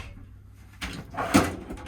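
A drawer in a campervan galley slides open with two quick scraping, knocking bursts, close and clear against a quiet background.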